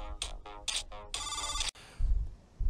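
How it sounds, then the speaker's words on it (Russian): A phone ringtone plays loud and close in repeated melodic bursts, then cuts off abruptly, leaving low thumping handling noise, while someone stands near a ventilation pipe on a seamed metal roof by a spire and weathervane. "Секундочку, телефон."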